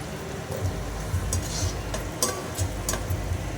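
Oil, green chillies and onions are stirred in a heated pan for a homemade chicken curry, with a steady sizzle under repeated soft scrapes and clinks of a spoon against the metal.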